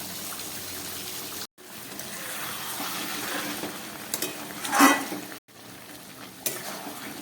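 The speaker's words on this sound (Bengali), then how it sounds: "আমি ভালো করে কষিয়ে নেব যতক্ষণ না পর্যন্ত ঝোল শুকোচ্ছে" Chicken curry stirred and fried in a pan as the gravy cooks down, giving a steady close sizzle with scraping stirring strokes, briefly cut off twice.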